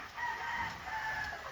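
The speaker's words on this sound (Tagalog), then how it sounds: "Yan yung mga manok kong sa isang kulungan." Chickens crowing and clucking at a moderate distance from a shared cage of nine birds, a long drawn-out crow followed by a second one, over a faint steady hiss.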